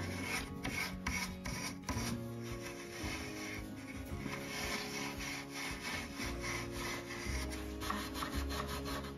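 Steel wool rubbed over a wooden plant stand to polish it, a steady, close scratchy rasping in quick repeated strokes, with no talk.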